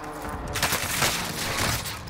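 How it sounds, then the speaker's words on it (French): Video game gunfire strikes the player in a rapid burst of shots, a dense crackling fusillade that keeps going without a break. "Et je prends des balles dans le dos maintenant."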